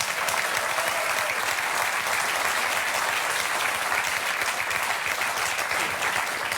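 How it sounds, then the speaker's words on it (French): Dense, continuous applause from a large crowd, loud and even throughout without pause, clapping blending into a steady wash of sound. "On peut applaudir Cahuzac quand même."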